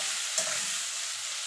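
Salted, turmeric-coated bitter gourd frying in oil, a continuous close sizzle with a brief stir or clink near the start, even and unbroken, no voices.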